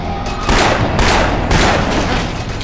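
A heavy pistol fires again and again in the video game Afterfall InSanity, several loud, dense booms in quick succession with little pause between them.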